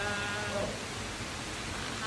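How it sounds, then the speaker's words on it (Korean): Rain falling during the rainy monsoon season, a dense steady hiss of drops that stays even and moderately faint throughout with no distinct individual splashes. "일 끝나고 집에 왔는데 또 비가 와요"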